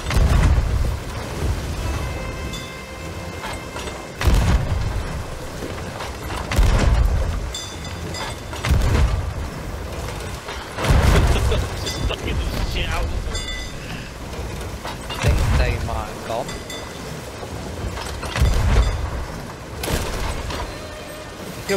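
Heavy ship cannons firing during a sea battle against a galleon in the pirate game Sea of Thieves, several booming blasts at irregular intervals over a constant background of rushing water and game sound, with players talking throughout.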